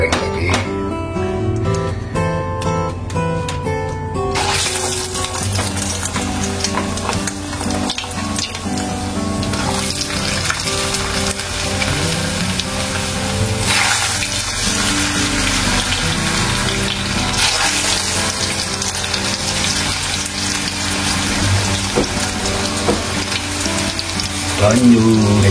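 Mie goreng pangsit noodles fry in a pan with a steady, loud sizzle and hiss that runs the whole time, over a tonal background sound.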